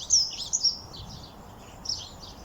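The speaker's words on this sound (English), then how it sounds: "Can you hear all the little birds?" Small birds sing outdoors in a garden in spring, a few high thin chirps and short trills heard at moderate distance over faint background hiss, with no talk.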